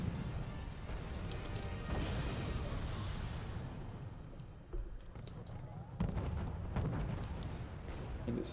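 An aircraft is shot down in the Wargame AirLand Battle video game, heard as loud, crunching explosive blasts and debris crashes layered over a rumbling battlefield, with a sharp fresh impact partway through and a voice talking underneath.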